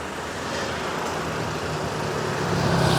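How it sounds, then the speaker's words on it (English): Busy road traffic in Kata, Phuket, a continuous dense wash of car, truck and bus engine noise, building slightly louder toward the end, with no talk. "A little bit busy with traffic down here"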